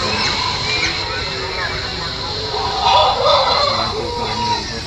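Native chickens at a busy poultry market cluck and crow amid steady crowd noise, with a continuous dense murmur and a few louder bird calls rising midway.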